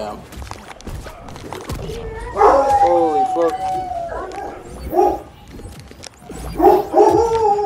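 A dog in a video game howls and yips in short bursts that rise and fall, while a player talks and exclaims over the game sound.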